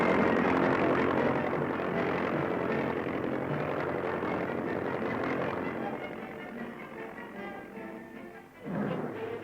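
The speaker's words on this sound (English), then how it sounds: "one of these giant flying boats glides to anchor on the waters of the Nile" A giant flying boat glides to anchor on the Nile with a loud, broad propeller drone that slowly fades, then a brief swell near the end.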